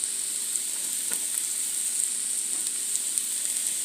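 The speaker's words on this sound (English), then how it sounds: "So I'm going to saute my mushrooms with my celery and my garlic." Mushrooms, celery and garlic sautéing in a pan give a steady, close hiss of frying that runs evenly throughout, with a few faint crackles and no talk.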